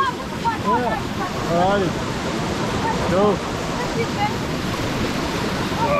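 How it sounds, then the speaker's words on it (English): Water rushes steadily through a small creek in the Bumburet Valley of the Hindu Kush mountains, a constant broadband flow close by, while someone speaks briefly over it. "It's in this little creek here. Creek? River?"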